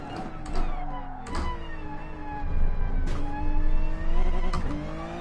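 Gr.3 race car engines in Gran Turismo Sport on the Dragon Trail circuit, a steady loud multi-car engine drone with harmonic whine shifting pitch through gear changes and several sharp upshift bursts, no talk.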